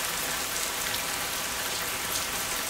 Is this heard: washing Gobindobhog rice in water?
no